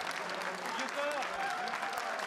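Rival party members applaud the announcement of presidential exit poll results, a thick continuous burst of crowd clapping, fairly loud and even, with some voices underneath.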